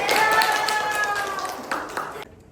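Audience applause for a group presentation at a lecturer-certification teaching session: a dense, fairly loud patter of hand claps with a voice speaking over it, cutting off abruptly near the end.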